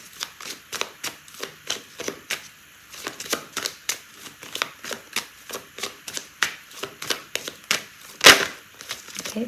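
Tarot cards are shuffled by hand in a quiet room, a rapid run of crisp papery riffles and taps with one sharper snap near the end, close and without talk.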